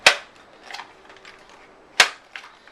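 Pumping a Crosman M4-177 air rifle: two sharp mechanical snaps about two seconds apart, each followed by softer sliding clicks, close and fairly loud with no talk.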